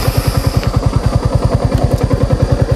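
A motorcycle rides along a jungle road, its engine throbbing in a fast, even low pulse that stays loud and close throughout.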